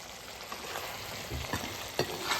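Chicken is stirred into gravy in an overfull wok, a low bubbling sizzle with a few soft scrapes and clunks of a spoon near the end, close by and with no talking.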